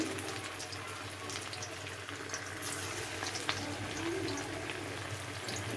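Sabudana pakoras fry in hot oil, giving a steady, dense crackling sizzle that holds at an even level throughout, close up, with no voices.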